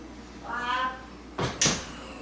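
An oven door shuts in a home kitchen after a pan of enchiladas goes in to bake, landing as two quick close thumps at the end after a short stretch of faint voiced sound.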